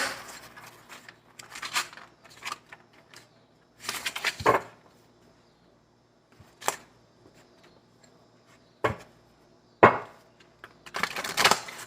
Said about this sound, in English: good shuffle in my cards here.